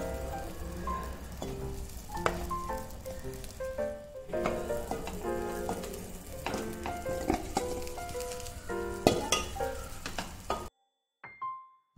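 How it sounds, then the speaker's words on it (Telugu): Rice being stirred into a hot pan while making coconut rice, with soft sizzling and irregular scraping and clinking of a spoon against the pan, moderately close, ending abruptly in near silence. "ఇప్పుడు దీంట్లో రైస్ వేసుకుని బాగా మిక్స్ చేసుకోవాలి"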